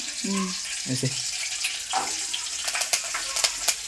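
Curry leaves and garlic hitting hot oil for a village-style sesame roti pachadi, a loud hissing sizzle with scattered pops and crackles, while people talk briefly over it at the start.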